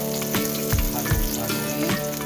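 Garlic fries in hot oil in a pan for a fish dish, giving a continuous close sizzle with crackling pops and a few scraping stirs, with no voices.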